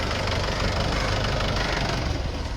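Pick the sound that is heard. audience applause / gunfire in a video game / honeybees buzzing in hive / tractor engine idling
tractor engine idling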